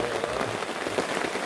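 Rain pattering steadily on surfaces at a camping ground near Kawah Ratu, a dense, even hiss of close drops without any talking.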